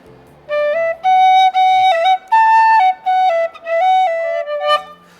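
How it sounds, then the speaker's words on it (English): A bright tin whistle plays a lively melody of held and stepped notes, loud and close, with short breaths between phrases and no voices. "sit inside and practice the tin whistle"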